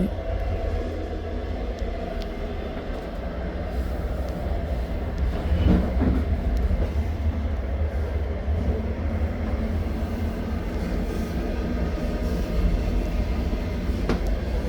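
A Chinese train rumbles steadily along the rails from Mohe to Hailar, a continuous low roar with faint clacks, heard from inside a carriage.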